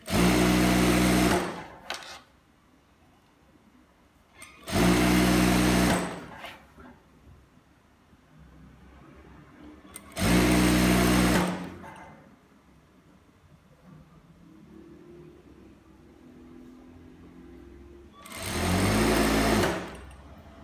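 A sewing machine stitching the side seam of palazzo trousers in four loud bursts of rapid whirring, each lasting one to two seconds and separated by quiet pauses with faint fabric handling.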